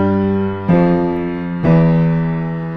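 Two left-hand piano octaves from Carol of the Bells are struck one after the other, each ringing on loudly and clearly before slowly fading, with no talking.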